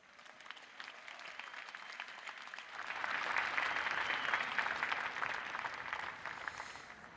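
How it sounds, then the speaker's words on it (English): Applause for a presidential address at a South African state ceremony, starting faint and swelling into steady clapping from a large crowd heard at a distance. "let us welcome our President and his address with another round of applause"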